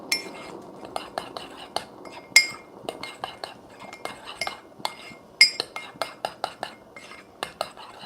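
A spoon stirs espresso and hot chocolate together in a cup, producing a quick run of bright clinks and taps against the sides, close and clear with light pauses between bursts.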